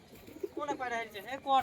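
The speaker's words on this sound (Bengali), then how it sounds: "নতুন সুখচাঁদ ভাইয়ের পায়রা প্রচুর হারিয়ে গেছে" Domestic pigeons coo in short, low throaty bursts at a loft, heard up close over a brief stretch alongside a person speaking nearby.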